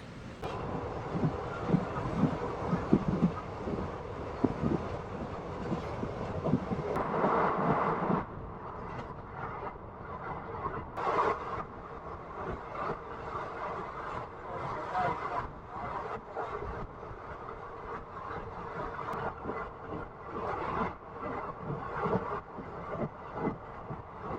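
A passenger train rumbles along and slows into Mudigubba station, a steady close rolling roar from inside the coach with clattering bumps and rattles that eases toward the end.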